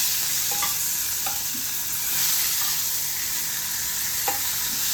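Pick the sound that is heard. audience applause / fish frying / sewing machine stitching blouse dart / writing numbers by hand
fish frying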